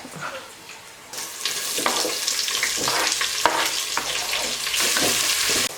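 Onions frying in a pan for chicken biryani in a home kitchen, a steady close sizzle that swells after the first second, with stirring scrapes and clatter throughout.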